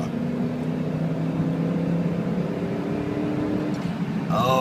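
A 2004 Dodge Ram pickup with a Hemi V8 engine runs with a steady, loud mechanical drone and harmonic whine, holding a fairly even pitch throughout before a brief rise near the end.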